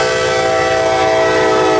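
A General Electric ES44AC locomotive passing through Evesham, Saskatchewan, sounds its horn in one loud, sustained, steady chord close by.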